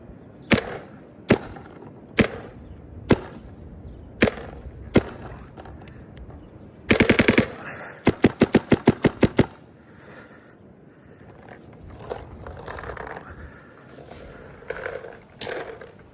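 A series of sharp, snappy Dye DSR+ paintball marker shots fired one at a time, then a quick rapid burst, followed by quieter mechanical clatter and rustling.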